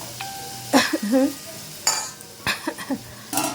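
A lid is set onto a cooking pot of tomatoes softening in oil, giving several metallic clatters and clinks over a quiet sizzle, close by, with someone talking between the knocks.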